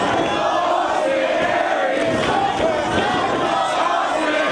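A wrestling crowd at a Nigel McGuinness versus Austin Aries title match cheers and roars in a loud, continuous, dense wall of voices filling the arena.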